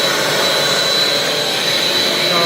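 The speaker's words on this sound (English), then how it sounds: "I'm going to start off with the vacuum." A Britex carpet cleaning machine's vacuum runs steadily and loudly, a constant whooshing motor roar with no breaks or other sounds.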